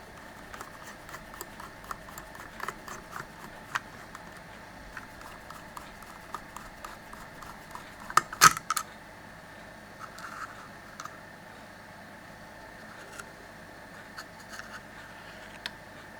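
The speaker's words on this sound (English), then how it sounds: "So I'm going to take this out, which are these 2 screws here." Small screws being undone from the mirrored face of an analog meter, heard as a run of faint, rapid ticking and scratching clicks close by, with a louder cluster of clatters midway and scattered taps after.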